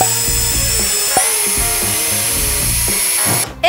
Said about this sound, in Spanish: y también voy a batir un montón